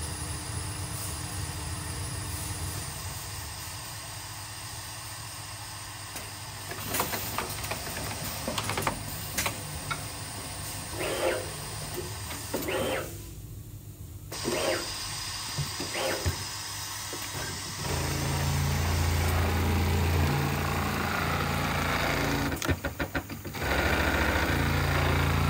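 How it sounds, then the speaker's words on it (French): Automated workshop sewing machine making a jeans pocket, giving a steady mechanical hum and rumble with intermittent clicks and short bursts of activity, fairly quiet and continuous throughout. "Une machine a réalisé une poche de jean"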